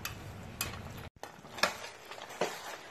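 Mutton rezala cooking in a pan, a soft steady sizzle with occasional stirring scrapes and clinks of a utensil, a brief silent gap midway, close and moderately quiet with no talking.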